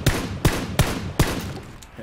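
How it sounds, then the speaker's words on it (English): Rapid gunfire from a PUBG firefight, four sharp, loud shots in quick succession, evenly spaced about a third of a second apart, with no talking over them. "Oh, I'm gonna shoot at him."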